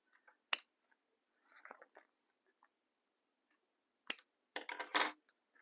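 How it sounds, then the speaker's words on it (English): Scissors trim a small stitched fabric piece with a few sharp snips and soft rustling cuts, separated by quiet pauses. "I'm just going to take my scissors and trim that up."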